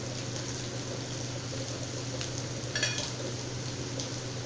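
Chopped onions with ginger-garlic paste fry in oil on a tawa, giving a soft, steady sizzle with a brief stirring scrape partway through.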